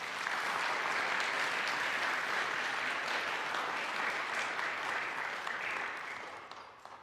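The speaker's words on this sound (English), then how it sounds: "Let's give him a round of applause" A church congregation applauds during a Sunday worship service, a dense, steady round of clapping that fills the room for several seconds before tapering off.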